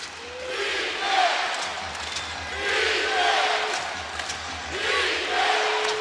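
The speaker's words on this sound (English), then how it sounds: "Crowd on its feet." A basketball arena crowd in Memphis, Grizzlies hosting the Nuggets, roars and chants in rising waves of sustained cheering, with a play-by-play commentator talking over it.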